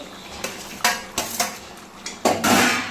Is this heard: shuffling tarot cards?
no